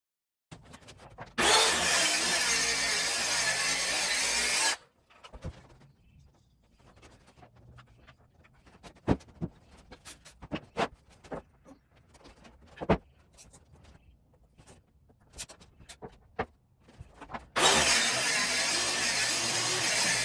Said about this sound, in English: use my track saw to get these down to size